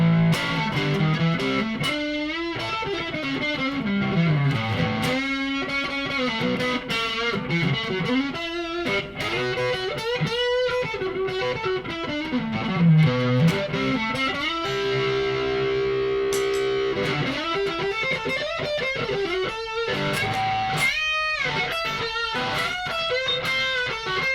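Electric guitar runs through the gain channel of a Mesa Boogie V-Twin placed in the effects loop of a Marshall DL5C, giving heavily distorted, sustained notes, slides and bends played continuously for over twenty seconds.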